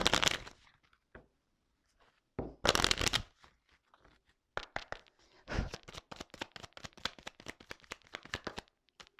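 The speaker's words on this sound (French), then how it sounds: "je vais prendre quelques cartes, juste 3 cartes" Tarot cards being handled and drawn, with sparse flicks and slides at first, then a quick run of crisp card snaps close by, with no talking.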